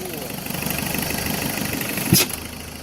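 A Holden Jackaroo engine runs steadily through a snorkel seal test, a continuous mid-pitched idle with a brief louder surge near the end, heard up close with some voices in the background.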